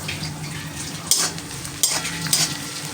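A whole bay leaf frying in oil for Bengali potato curry, a close continuous sizzle with three distinct scraping stirs of a spoon against the pan.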